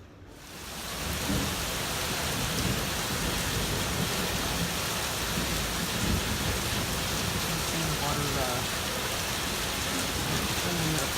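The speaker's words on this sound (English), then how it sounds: "raining hard, and the thunder is loud" Heavy rain hammers down steadily during a thunderstorm on the Pacific Crest Trail near Tehachapi, a loud, continuous close roar of drops with low thunder rumbling underneath, starting abruptly after a brief quiet moment.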